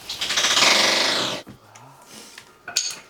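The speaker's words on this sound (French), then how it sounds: "il faudrait que tu me prépares la visseuse avec une mèche à bois" A cordless drill fitted with a wood bit bores into wood, a loud close whining, rattling burst lasting over a second before it stops, with a few soft knocks afterward.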